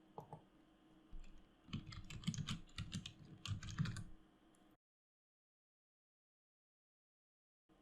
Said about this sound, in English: From the search bar, type in Docs to Site.